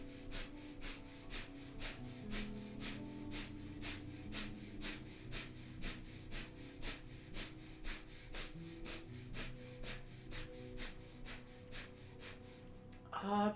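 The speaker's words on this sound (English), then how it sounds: "And we will begin 1 minute of breath of fire." Breath of fire during a seated yoga practice: rapid, evenly spaced nasal breaths, roughly two per second, are kept up steadily and fairly close over soft background music.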